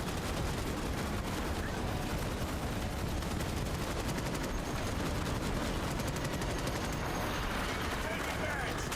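Bombardment explosions and constant gunfire fill a Starship Troopers: Extermination multiplayer battle, a dense, loud, unbroken roar of shots and blasts with distant impacts layered underneath.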